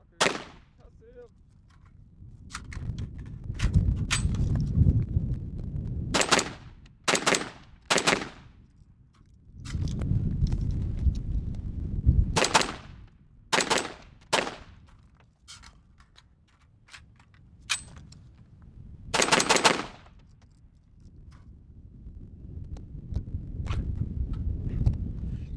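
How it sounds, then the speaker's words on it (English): AR-15 rifle fitted with a FailZero nickel boron bolt carrier group, fired outdoors in loud sharp single shots and quick bursts with pauses between, over wind and some background talk. "Let's do some more shooting."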